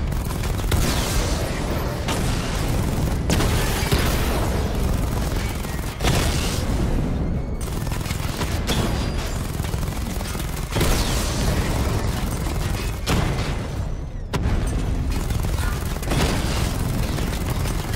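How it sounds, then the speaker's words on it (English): A missile barrage fires in Batman Arkham Knight, a dense, continuous roar of rapid launches and explosions with repeated booming bursts throughout, loud and unbroken. "Missile barrage level 2 ready."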